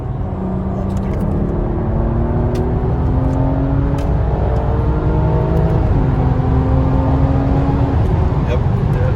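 A BMW F30 with a gen 1 B58 engine running Bootmod3 rolling antilag accelerates hard from 60, giving a loud, steady in-cabin engine drone with rising pitch and a brief dip at a gear shift, while voices are faintly present.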